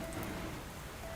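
Steady rain falls across the whole moment in the cozy farming game Fields of Mistria, a soft, even hiss of drops with no talk over it.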